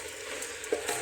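Salted mushrooms fry in a pan with onion and tomato, a brief, steady, fairly quiet sizzle with a faint stir near the end and no speech.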